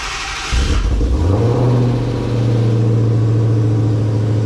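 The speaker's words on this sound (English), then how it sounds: "what I'm gonna do is finally remote start this thing" A Dodge Challenger Hellcat engine, sitting long unused, cranks and fires after a remote start about half a second in, then settles into a loud, rumbling idle heard up close.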